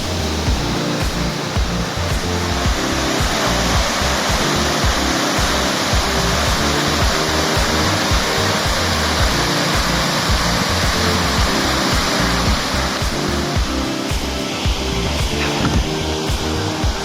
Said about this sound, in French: cascade vue du bas.